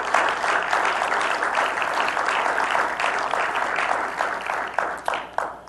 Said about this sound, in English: if you could provide them a round of applause